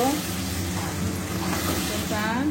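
Boiled new potatoes frying in a pan, sizzling steadily while being stirred, a constant close hiss with a voice speaking over it.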